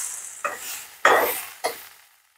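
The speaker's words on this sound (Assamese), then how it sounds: "এতিয়া আমাৰ ধুনীয়াকৈ কলমৌ ভাজি হৈ গ'ল" Water spinach (kalmou) frying in a pan gives three quick scraping stirs, each followed by a sizzle that fades, with no voices.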